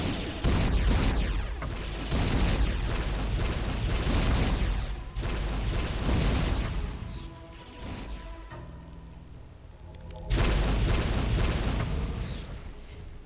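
Rockets detonate in a video game, several loud, broad booming bursts in quick succession with a brief lull before a final heavy blast.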